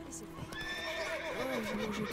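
A horse in the video game The Witcher 3 gives a loud, wavering whinny with hoofbeats beneath it, while a voice talks over part of the sound.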